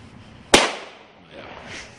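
A single Weco A-Böller firecracker bursts in one sharp, loud bang that decays quickly outdoors, followed by faint background sound and a brief voice.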